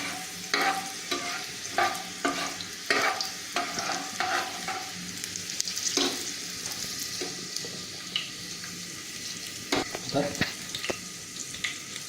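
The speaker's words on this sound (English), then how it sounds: "Now I'll put handful of garlic into it. Just wait for them to turn golden brown in color." A handful of garlic frying in a pan for an Indian lal maans, a steady oil sizzle broken by repeated sharp scrapes and stirs of a utensil, loud and close throughout.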